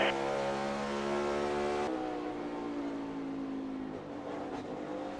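A race car engine drones steadily from inside the cockpit during a race at Richmond, a loud harmonic whine that shifts pitch as the car gears and accelerates.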